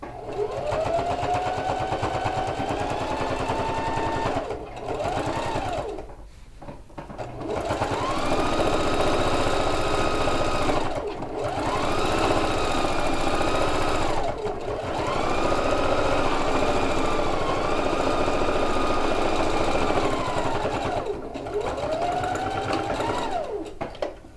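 A sewing machine stitches along the edge of a quilted coat in long runs, a steady whirring hum that stops briefly several times before starting again, close and clear with no talk.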